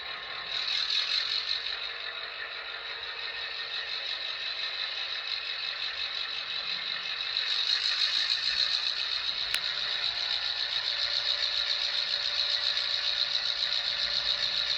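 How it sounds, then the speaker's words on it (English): A Rapido HO scale FL9 model locomotive's sound decoder plays a diesel prime mover revving, a steady tinny drone through a small speaker that climbs a notch partway through, close and without talk. "this is a newer recording of the prime mover sound file"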